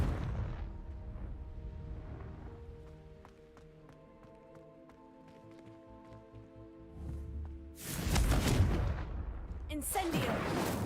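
Confringo blasting spell in the video game Hogwarts Legacy, with a sharp explosive burst at the start and another heavy blast near the end, and game music playing between them.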